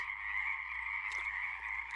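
A wild frog near a shoreline gives one sustained, buzzing croak, loud and close, with a brief faint splash or rustle partway through.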